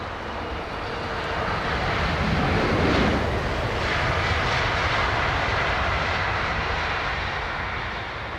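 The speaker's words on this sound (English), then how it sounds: "think it might be Air Canada that I can hear" An Air Canada airliner passing over London Heathrow Airport, a broad jet engine roar that builds to a peak around the middle and then eases off gradually, heard alone without voices.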